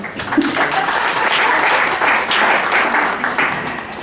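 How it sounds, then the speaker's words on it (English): Audience applause at an annual general meeting, a steady wash of many hands clapping that swells and holds for several seconds at close range, with a few voices briefly audible underneath. "Ladies and gentlemen, let's clap our hands again."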